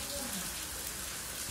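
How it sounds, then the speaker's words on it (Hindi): Heavy rain pours steadily outdoors, a dense even hiss of drops on surfaces with no pauses, close and continuous. "बहुत तेज बारिश हो रही है ना"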